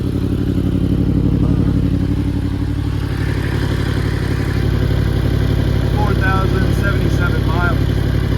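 A 2021 Yamaha R1 sportbike idles steadily at close range, a loud, even engine drone with a mechanical clatter, and someone talks over it.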